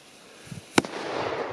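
A Spanish BRAVO XL firecracker goes off outdoors with a single sharp, loud bang, followed by a brief echoing decay and low background rumble, with no voices.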